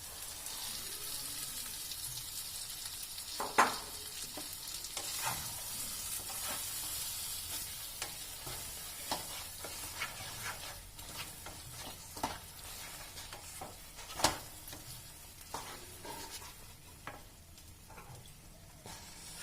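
Boiled mixed dal goes into a pan with eggs and cooks, giving a soft steady sizzle with occasional stirring clatters and spoon knocks against the pan, moderately close and without talk.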